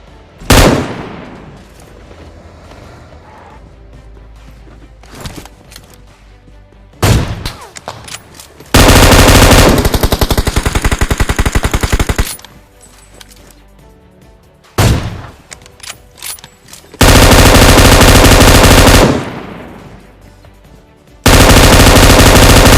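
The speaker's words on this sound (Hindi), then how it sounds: "अब यहाँ मैंने 2 AWM के शॉट मारे थे और दोनों लगे थे" Gunfire in a battle-royale video game where an AWM sniper rifle is used. Several single loud shots are followed by long, dense bursts of rapid automatic fire that drown everything else, with quieter stretches between bursts.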